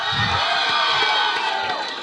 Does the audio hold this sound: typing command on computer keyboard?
no